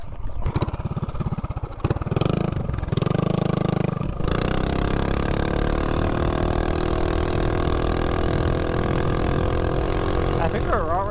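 MB 200 mini bike with a stock motor, aftermarket header pipe and air filter, run up to top speed: after a few rough starts the small engine settles into a loud, steady high-pitched drone that holds level to the end.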